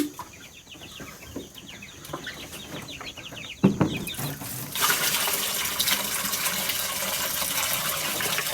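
Water runs steadily from a tap into a container for chickens on a farm, a close, loud rushing that starts midway. Chickens cluck and chirp beforehand.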